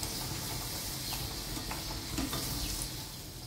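Jaggery puris frying in hot oil give off a steady, close sizzle with dense crackling and faint bubbling throughout, softening slightly at the end.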